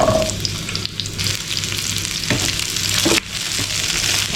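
Cubed onion, about one and a half onions, tipped into hot sunflower oil in a kadai for restaurant-style kadai chicken, giving a loud, steady crackling sizzle with a few stirring scrapes and no talking.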